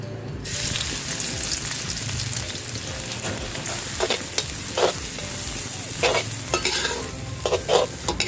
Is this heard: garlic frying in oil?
yes